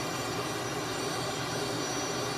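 A Tutor CT-114 jet engine runs at full throttle on the runway at Moose Jaw in a VR flight game, producing a steady, dense, loud roar with no variation and no voices.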